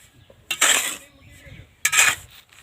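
A mixture being stirred and turned in a pot with a utensil: two distinct, close scraping strokes with metallic rattling, separated by a short quiet pause.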